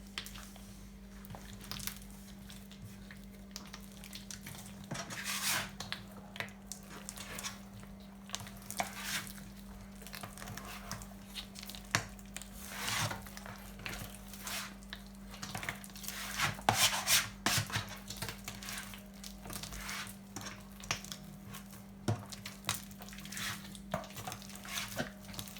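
Bread dough for a Hokkaido milk loaf being kneaded by hand, soft irregular rubbing, slapping and pressing sounds repeating quietly over a low steady hum, no talking.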